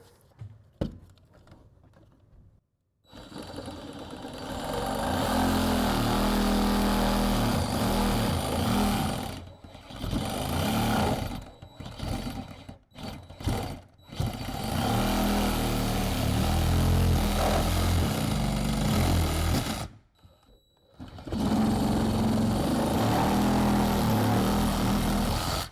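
A loud, roaring motorized power tool notches out a wall stud for an in-wall speaker install, running in long sustained stretches broken by short stops and restarts.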